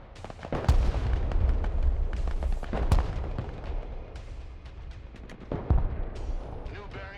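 Bombing run explosions in a video game, heavy booming blasts rolling one after another with deep rumbles and a few sharper impacts, loud and close throughout.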